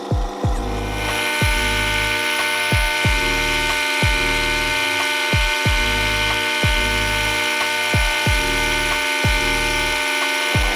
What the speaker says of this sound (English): Now I'm just going to pause the anchor stirrer for a minute while I check the temperature.